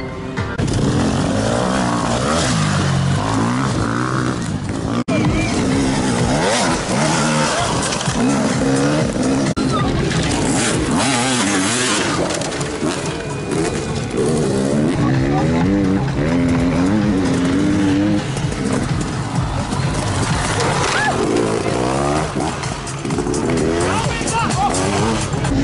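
Enduro motorcycles rev and race past near the finish of a Turkish championship round, loud continuous engine roar with rising and falling revs, while people talk nearby.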